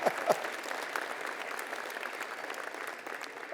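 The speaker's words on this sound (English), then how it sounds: "Where are these cheers coming from? I just love those cheers." Graduation convocation audience applauding steadily with scattered cheers, a dense, continuous clapping texture from a large crowd that holds at an even level throughout.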